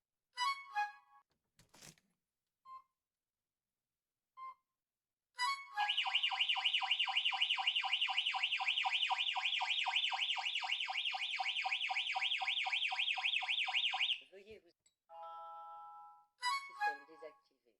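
A Verisure home alarm system sounding after a door is opened: scattered short beeps and tones, then a loud, sustained electronic siren lasting about eight seconds before cutting off, followed by a few more brief chirps.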